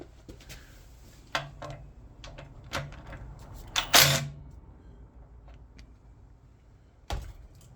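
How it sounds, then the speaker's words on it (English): Oil drain bolt being undone on the right side of a Honda CB400T Dream motorcycle crankcase, with scattered metallic clicks and ratchet taps, one sharper clank, at close range with no talk. "the first job then is to take off the oil drain bolt here, which is on the right hand side of the crankcase"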